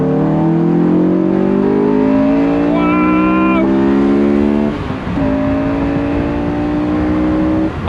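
A Honda S2000 sports car drives at speed, its engine note climbing steadily through the gears with a shift break near the middle, loud and close throughout, no voices.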